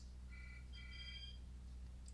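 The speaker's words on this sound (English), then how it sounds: "excuse the phone ring in the background" A telephone ringing faintly in the background, heard as two short bursts of electronic trill tones over a steady low hum, with no talk.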